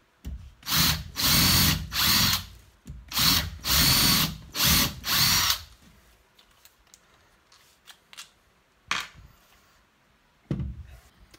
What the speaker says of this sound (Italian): Vediamo se con una vite autoperforante riusciamo a forare questo metallo